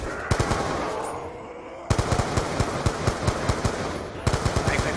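An AK rifle fires in Black Ops 2 zombies on the Die Rise map, with loud, close, rapid automatic bursts broken into three long strings with brief gaps.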